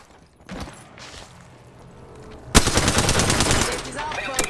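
Automatic weapon fire in Apex Legends starts as scattered shots, then breaks into a loud, sustained rapid volley in the second half, with brief character voice lines mixed in.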